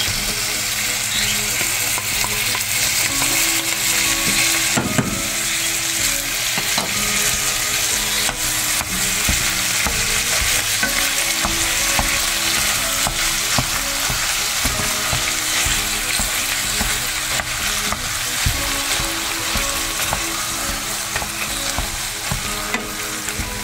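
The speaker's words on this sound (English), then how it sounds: "Brown the hamburger up in there." Hamburger meat browns in a pan for keto stuffed bell peppers, a loud, continuous crackling sizzle close by with scattered stirring clicks and scrapes throughout.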